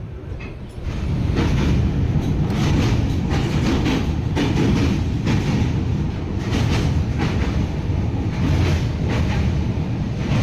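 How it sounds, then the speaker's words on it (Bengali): A passenger train runs through Bhubaneswar Junction in Odisha before dawn, heard from on board as a loud, steady rumble with rhythmic wheel clatter throughout. "চোখ খোলার পর দেখি আমাদের ট্রেন ক্রস করছে"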